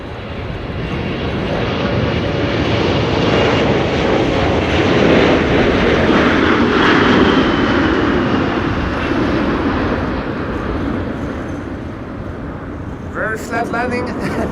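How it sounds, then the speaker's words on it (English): A Nippon Cargo Boeing 747 freighter takes off at Amsterdam Schiphol Airport in high winds, its jet engines a loud, sustained roar that swells and then slowly fades, with a voice talking over it. "There's the 747 taking off."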